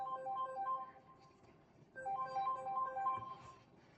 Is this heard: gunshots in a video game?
no